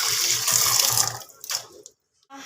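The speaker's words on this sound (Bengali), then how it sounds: "চলো চিংড়ি মাছগুলো ধুয়ে নিই ধুয়ে উঠিয়ে দিই" Tap water runs steadily over shrimp being washed in a sink, then cuts off with a few splashes and drips, near and alone.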